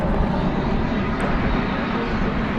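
An incoming Embraer 175 airliner from Gulfport, Mississippi approaches DFW Airport in the wind, with a loud, steady, broadband engine roar that holds constant throughout.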